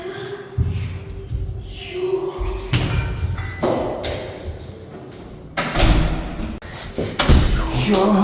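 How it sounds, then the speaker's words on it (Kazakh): A door thuds as it is opened: several heavy, close knocks and bumps land among rustling and movement noise, with a few sharp impacts spread across the stretch. "Қазір есікті ашып көрем, жарай ма?"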